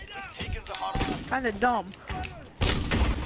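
Booming blasts from a 12-gauge Deputy shotgun with a Kilo attachment in the shooter game Modern Warfare, one early and one heavy shot near the end, under a man's close, continuous chatter.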